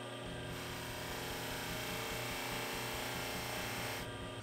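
A plated steel bolt pressed hard against a spinning polishing wheel gives a steady, loud broadband grinding rush with a low motor hum beneath, held continuously for about four seconds with no talk.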